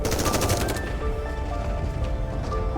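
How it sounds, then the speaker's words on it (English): Rapid bursts of gunfire in the video game Goddess of Victory: Nikke, loud and close, with a dense volley at the start easing into scattered shots over a steady rumbling background. "Gunfire rings out."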